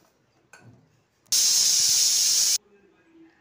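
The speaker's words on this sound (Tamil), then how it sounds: "இப்போ நம்ம குக்கர் க்ளோஸ் பண்ணி ஒரு 4 விசில் விட்டு எடுத்துக்கலாம்." A pressure cooker of pearl millet lets out one loud, steady burst of hissing steam that lasts just over a second, then stops abruptly, leaving a quiet kitchen with faint background sounds.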